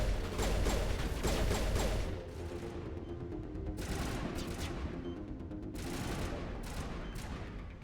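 Gunfire in Mass Effect, rapid bursts of automatic shots crackling close in a dense fusillade, then a lull before further sharp volleys of individual shots, with no speech over them.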